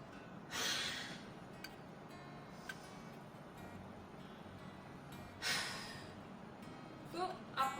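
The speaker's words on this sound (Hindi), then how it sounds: "आपको छोटा सा सांस अंदर लेना है और लंबा मुंह खोल के सांस को बाहर निकालना है" A person does a huffing breathing exercise for cough and phlegm: two long, breathy open-mouth exhales, each after a short inhale, then quick close huffs near the end, all fairly quiet.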